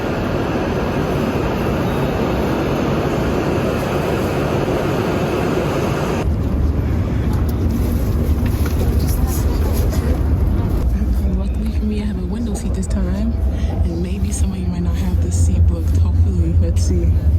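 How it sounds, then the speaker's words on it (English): Interior of a moving Shinkansen bullet train in Japan, a steady rumbling hum of the carriage that deepens partway through, with someone talking over it. "this is our first proper Shinkansen train."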